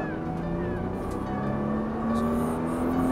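A 480 hp Nissan GT-R accelerates on the Haute Saintonge race circuit, its engine note climbing steadily in pitch, loud and continuous from inside the car.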